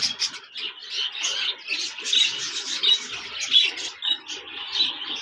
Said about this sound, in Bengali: এখানে দেখতে পাচ্ছেন একজোড়া জাপানিজ বাজরিগার রয়েছে, লুটিনো ডিএফ